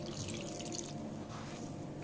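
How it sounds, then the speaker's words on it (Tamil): Water trickles and drips steadily into a bowl of semolina dough for puri, a soft continuous liquid patter with no voices. "நல்லா மிக்ஸ் பண்ணிவிட்டு தண்ணி ஊற்றிக்கலாம்"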